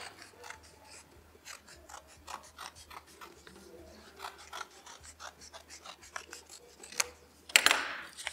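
Scissors cutting through folded paper for a homemade tiger mask, a close run of crisp snips and rustling blade strokes, ending in a louder burst of paper crinkle.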